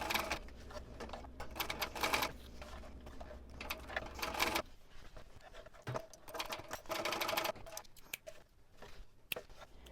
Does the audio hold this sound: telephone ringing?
no